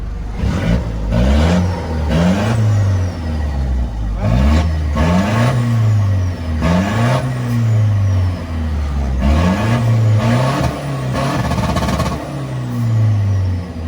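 Tuned Isuzu D-max 1.9 turbo diesel with a remap, revved repeatedly in a steady rhythm of rising and falling swells, loud and close, with turbo whistle over the engine note.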